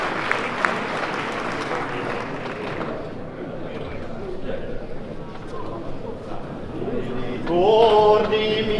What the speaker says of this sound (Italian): Un applauso ancora al coro di Santo Stefano Davito.